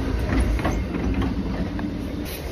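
Train car rolling along rails with a steady low rumble and rhythmic clatter, close and continuous, with faint hiss above.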